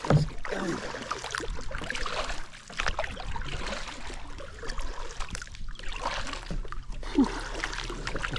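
Steady splashing and churning of water as a lone paddler works a two-person kayak, continuous and close with trickling drips throughout, no clear voices.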